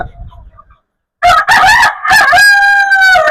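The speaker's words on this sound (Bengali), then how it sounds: "এটা হচ্ছে হ্যাজা খুবই সুন্দর মোরগগুলো হ্যাজা মোরগ" After a brief pause, a large hill-breed Hyaja rooster crows loudly and close by in one long, drawn-out call with a rising then sustained tone.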